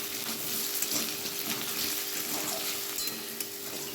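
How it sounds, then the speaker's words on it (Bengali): Potatoes frying in white cooking oil give off a soft, continuous sizzle with small crackles, faint and close, with no talking. "এই যে সাদা তেলের মধ্যে আলু ভেজে নিচ্ছি"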